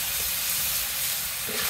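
Fish dropped into a pan of fried, cooked-down spices with turmeric gives a steady, close hiss of sizzling oil that runs unbroken throughout, with no talk over it.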